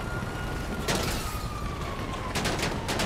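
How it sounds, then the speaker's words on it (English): Gunfire in the GTA Online video game rattles in short sharp bursts over a dense, loud background of city noise and a faint siren-like tone. "Oh, look, he's shooting at us."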